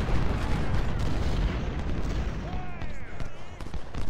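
Civil War-era cannon fire in the strategy game Ultimate General: Civil War, heard as a continuous, heavy rumble of booming artillery and battle noise at steady loudness.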